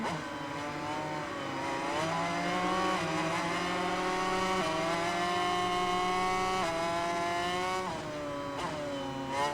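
A racing motorcycle in the video game MotoGP 21, its engine whining and rising and falling in pitch through acceleration and braking, steady and prominent throughout with no voices.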